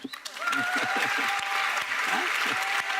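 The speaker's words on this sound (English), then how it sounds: "Por favor, un gran aplauso para ellos dos." Audience applause on a Sunday evening at the Educacio per la Vida 2018 event: a dense, even spread of clapping from a crowd, with a voice talking over it in the first second and a half.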